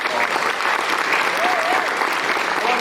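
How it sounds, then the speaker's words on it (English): An audience gives a sustained, steady round of applause at a NAMI Pennsylvania award presentation, dense clapping filling the room from start to finish with faint crowd murmur beneath. "So let's give Loren a wonderful round of applause."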